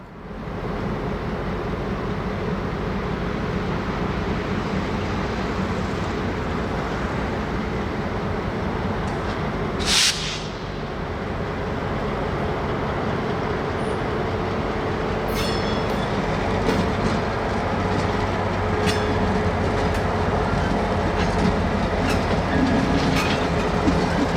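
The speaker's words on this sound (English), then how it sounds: "the NX12 heads engines light into West Yard" Locomotives running light into a rail yard: continuous low rumble and steady clatter of rail equipment rolling along, with a brief sharp squeal midway and faint metallic clanks later.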